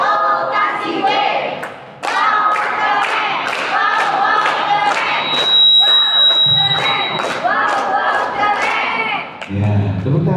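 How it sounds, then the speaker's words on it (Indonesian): An indoor audience claps steadily and fairly loudly, with a few whoops and voices over the applause, which dips briefly and then picks up again. "Ya, tepuk tangan."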